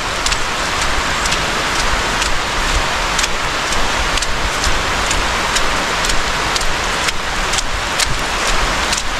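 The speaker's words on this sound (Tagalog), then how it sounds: "Ngayon umulan." Steady, loud rain falling outdoors in the Philippines, a dense continuous hiss with frequent close drips and splashes on a hard surface and no voices.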